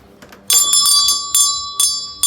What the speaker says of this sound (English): is an original bell. So you can hear that wherever you go